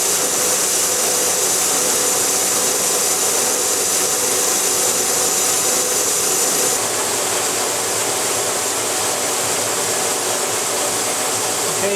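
Milling cutter, 3.5 inches across, cutting a metal part at 74 RPM with a feed of an inch and a half a minute, a loud, steady broadband grinding hiss that holds unbroken from start to finish with no talk.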